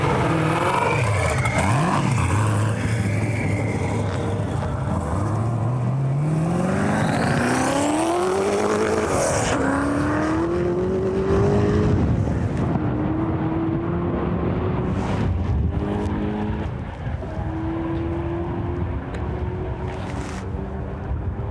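A Hennessy car accelerates hard down a runway, the engine note climbing through rising gears and roaring past up close before fading into the distance.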